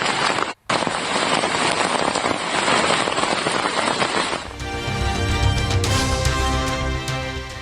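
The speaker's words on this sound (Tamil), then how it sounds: "இடைவிடாத கனமழையால் காஷ்மீரின் ரம்பன் நகரமே உருகுலைந்த கோரக் காட்சி." Heavy rain pours down in Ramban, Jammu and Kashmir as a dense, steady hiss and patter filling the scene, broken by a brief dropout, then shifting to a rumbling, more textured downpour with a low drone underneath.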